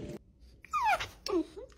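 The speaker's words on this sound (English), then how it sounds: "my three-legged dog Rocket" A three-legged dog whimpers in a few short, high, wavering whines with brief pauses between them, close by and fairly quiet.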